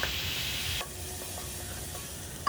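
Chopped vegetables for traditional Maharashtrian Bhogi bhaji frying in oil in a pan, a steady close sizzle with a spoon stirring and scraping through it, softening briefly before resuming, with no voices.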